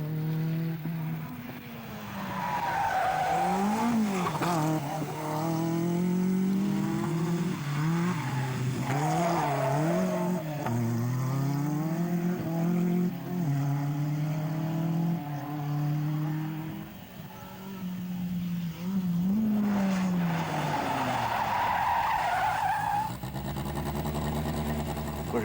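Peugeot 205 Turbo 16 rally car engine roaring loud and close at varying revs, with rising and falling pitch sweeps and a brief squeal of tires, continuous for the whole stretch.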